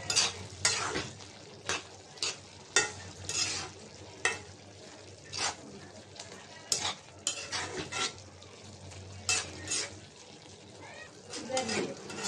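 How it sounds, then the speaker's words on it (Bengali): Shrimp, Malabar spinach and potato get stirred in a pan with repeated spatula scrapes and clinks over a low sizzle, while a voice talks intermittently in the background. "নাড়াচাড়া দিয়ে দিলাম"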